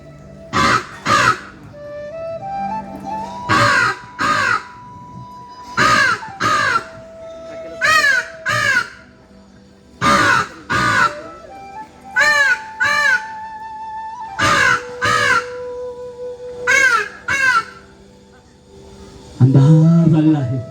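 A human voice imitates crows cawing, with repeated harsh, harmonic caw bursts in short clusters over about twenty seconds, loud and close, alternating with sustained whistled tones.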